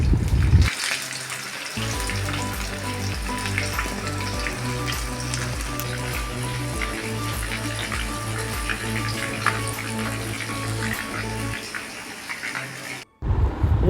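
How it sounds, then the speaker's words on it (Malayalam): Prawn skewers deep frying in hot oil in a pan: a continuous close sizzle and bubbling runs for about twelve seconds, steady in level, with a faint tonal hum beneath it. "പാൻ അടുപ്പത്ത് വെച്ചിട്ട് എണ്ണ ഒഴിച്ച് ചൂടാകുമ്പോൾ കൊഞ്ച് സ്റ്റിക്ക് അതിൽ മുക്കി പൊരിച്ചെടുക്കാം"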